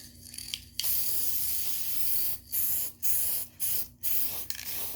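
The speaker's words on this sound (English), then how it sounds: "I'm just going to go ahead and spray it nice and evenly" Bursts of matte UV-resistant sealant spray from an aerosol can onto painted canvas sneakers, one long hiss followed by four short sprays with brief gaps, close and loud with no talk.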